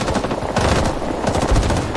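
Loud rapid bursts of machine-gun fire from a plastic army men war video game, a dense rattling volley that keeps going for the full two seconds with no pauses.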